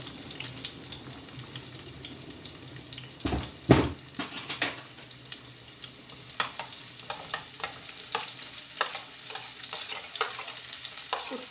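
Oil sizzles and crackles steadily in a pan as garlic and onion fry, with scattered clinks and stirring scrapes, including a louder clatter partway through; no voices.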